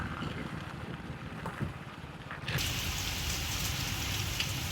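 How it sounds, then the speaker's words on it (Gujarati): Rain falls steadily outdoors during a monsoon downpour, a soft patter that suddenly grows louder and denser partway through, with wind noise and no voices. "હજી બપોર નથી થઈ ત્યાં પાછો વરસાદ ચાલુ થઈ ગયો."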